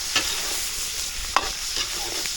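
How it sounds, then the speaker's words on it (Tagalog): Garlic and onion sizzle steadily in a hot pan while a utensil stirs and scrapes them, with a few sharp scrapes breaking through the constant close frying hiss. "papupulayin ko lang itong bawang sibuyas natin, saka mga sangkap natin dito"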